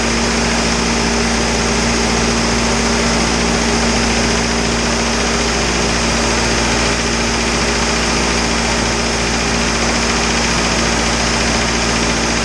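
An Isuzu 4BD2T diesel engine runs steadily right after its first startup in a build, a loud, close, continuous rattling drone with no change in pace.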